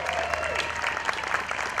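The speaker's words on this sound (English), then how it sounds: "just a round of applause, and thank you for everybody" At an outdoor rally against the Rose Quarter freeway expansion, a crowd gives a round of applause, many hands clapping in a continuous, fairly distant wash, with a faint tone briefly sliding underneath.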